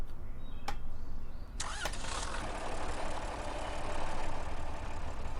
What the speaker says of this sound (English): let's go ahead and fire this guy up and see what it sounds like